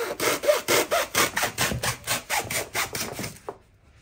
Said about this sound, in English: Hacksaw maybe?